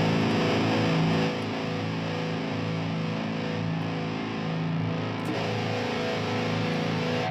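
Heavily distorted metal rhythm guitar through a Pod Farm dual rectifier amp simulation, paired with a Treadplate model, plays dense chugging chords that ring loud and steady throughout.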